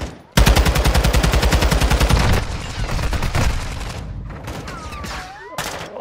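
Rapid automatic gunfire in the DMZ shooter game, a loud sustained burst of close shots for about two seconds, followed by scattered quieter shots and whooshing effects, with another brief burst at the end.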